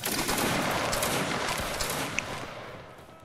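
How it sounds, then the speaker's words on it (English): Musket volley fire in a Napoleonic-era battle game between Bavarian and Prussian forces, heard as a dense, sustained crackle of many shots blending into a roar that slowly fades, with one sharper crack near the end. "Aim at the red flag. And fire."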